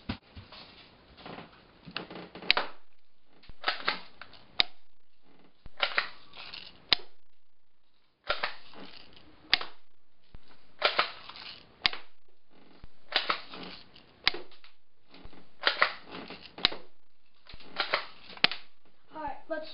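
Airsoft guns fire at a firing range in repeated short bursts of sharp snapping shots with silent gaps between them, fairly close.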